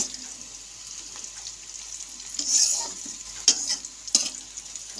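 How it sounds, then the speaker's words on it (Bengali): Sliced onions sizzle softly in a pan of hot oil for a Bengali bhola fish curry, with a steady low crackle and a few sharper spits and stirring scrapes near the end. "আমার পেঁয়াজটা ভাজা হয়ে গেছে"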